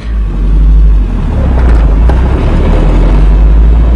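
An old step-side pickup truck's engine runs with a loud, steady low rumble heard from inside the cab, mixed with heavy buffeting, and no talking.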